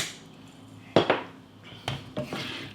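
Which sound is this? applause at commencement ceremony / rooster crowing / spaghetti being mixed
spaghetti being mixed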